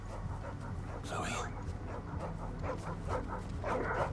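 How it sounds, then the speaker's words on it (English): Small in-game dog barks and whimpers in short yips among steady game music and ambient sound, with faint murmuring voices at moments. "What are you barking at?"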